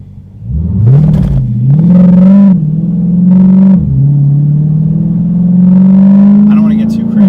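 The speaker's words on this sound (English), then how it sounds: "we're going to do a small acceleration onto an acceleration ramp" A Dodge Challenger Scatpack 392 Shaker with straight pipes accelerates up an on-ramp, its loud deep exhaust rising in pitch through several gear pulls, then holding a steady droning roar.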